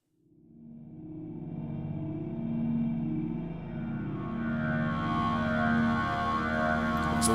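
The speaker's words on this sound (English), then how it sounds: "There's one called Sewers and it sounds like this" A dark, swelling synthesizer soundscape from the Massive preset named Sewers fades in and holds as a dense, droning pad with low sustained tones and rising airy upper layers, steady and alone with no voice.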